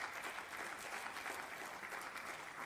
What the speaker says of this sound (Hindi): और ये तालियों की गड़गड़ाहट